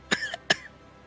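A character coughs in a Naruto video game: two sharp, close coughs about half a second apart, each with a raspy, voiced tail, followed by quiet.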